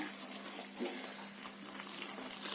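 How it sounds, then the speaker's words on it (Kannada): Boiling water poured steadily from close by into fried spiced rice masala in a pot, a continuous rushing, hissing pour with no talking. "ನೀರು ಕುದೀತಾ ಇದೆ, ಕುದಿಯುವಂತ ನೀರು ಹಾಕೊಳ್ಳೋಣ"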